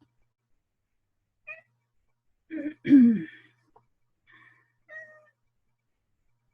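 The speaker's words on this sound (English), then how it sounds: "I have a kitty who wants to join us." A house cat meows a few times indoors, short close calls with a longer, louder one in the middle, separated by quiet gaps, with a brief murmured word.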